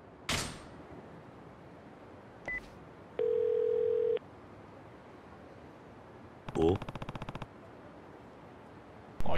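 A flat, steady telephone dial tone from the Yakuza Kiwami 2 video game plays alone for about a second, with a burst of rapid beeping like dialing or a busy signal heard a few seconds later.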